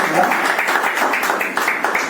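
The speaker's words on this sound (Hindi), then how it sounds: "मैं चाहता हूं कि तालियों की गड़गड़ाहट से इनका भी स्वागत किया जाए।" A gathered audience claps steadily in welcome of a speaker at a political meeting, a dense, even patter of hands sustained at moderate volume with voices faintly mixed in.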